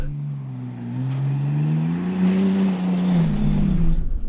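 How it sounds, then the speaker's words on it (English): The engine of a 2024 Ford Bronco Raptor rises in a loud, close, throaty rev as the throttle is gunned off-road on a narrow trail with thick terrain, swelling and sagging under steady crunching terrain noise, with no voices. "keep the differentials open, not locked, gun the throttle"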